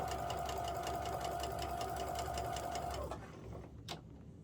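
Sewing machine stitching a quilt block, running in a steady, rapid rhythmic whir of needle strokes for about three seconds before stopping, leaving a quiet room with a brief click.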